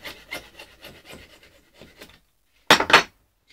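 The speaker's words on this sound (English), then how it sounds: "I would use a half round file." A half round file rasps across wood on a scratch-built radio-control Catalina PBY seaplane model. A series of short, close scraping strokes is followed by a pause, then two louder, sharper rasps.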